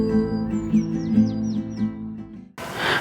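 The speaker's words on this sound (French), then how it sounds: "Assis sous le soleil, on écoute les oiseaux." Small birds in sunshine give a quick run of thin, falling chirps over a steady tonal backdrop, ending in a brief rush of broadband noise.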